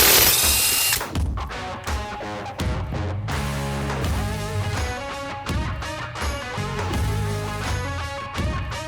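Power tool spinning off car wheel lug nuts with a 13/16 socket, loud and close, giving repeated whirring bursts and rattling, ratcheting bangs as each nut breaks loose.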